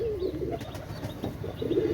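A running pair of Oman Saki Teddy pigeons coos in low, throaty, repeated calls, close by and steady, with a faint murmur of background noise.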